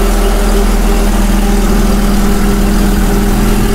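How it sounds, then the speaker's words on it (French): A BMW E30 fitted with an M52B28 inline-six runs at idle with a big exhaust leak, a loud, steady, close rumble that holds constant throughout. "effectivement j'ai une grosse fuite à l'échappement"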